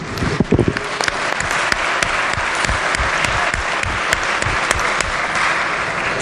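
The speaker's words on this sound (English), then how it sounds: "Please give them a round of applause." A chamber full of legislators gives a round of applause for visiting school pages at the West Virginia Legislature, with dense, steady clapping sustained for several seconds and no talk over it.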